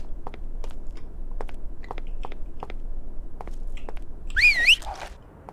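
A short rising-and-falling whistle tone from the video game Mafia near the end, after a run of soft crunchy clicks and taps over a low background hum.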